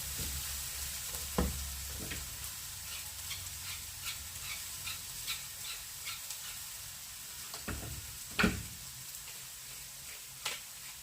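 Eggplant slices sizzle steadily in hot oil, with occasional clinks and scrapes of stirring, close and moderately loud, no voices.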